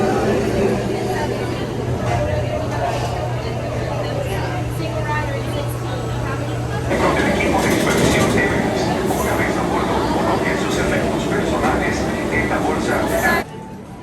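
A theme park ride train at Animal Kingdom rumbles and hums nearby, a low steady drone with mechanical rattling that swells louder midway, while people talk over it.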